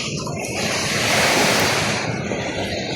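Ocean waves at high tide on a Cebu shore, a steady roaring surf that swells louder in the middle and eases off again, with wind noise rushing across the microphone and no voices.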